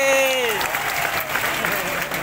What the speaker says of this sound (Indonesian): tepuk tangan untuk Mbak Anissa Bahar.